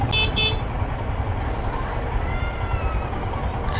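Dense, steady low traffic rumble of idling and creeping vehicles stuck in a jam, with a couple of short horn-like toots near the start and a brief bright sound at the end.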